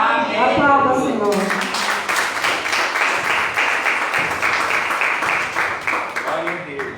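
A church congregation applauds during a service: dense, steady clapping from many hands sustains throughout, with a voice speaking briefly at the start before the crowd noise takes over.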